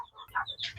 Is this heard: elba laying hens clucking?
yes